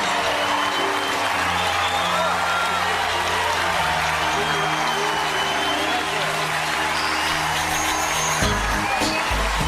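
A stand-up comedy audience applauds Bill Maher with steady, dense clapping and some crowd noise that fills the whole stretch, while a voice speaks over it and a low hum runs underneath.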